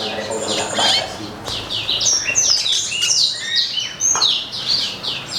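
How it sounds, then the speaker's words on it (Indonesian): A mosaic canary at a Jakarta bird breeder's aviary chirps in quick, bright trills and tweets, fairly close and steady throughout, with other birds twittering around it. "Oh, ini kenari merloknya juga."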